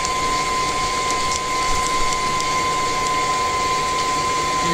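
An electric mixer creams butter for polvorones, a steady continuous motor whir with a constant tonal hum, close and fairly loud, running evenly without pauses for the whole stretch.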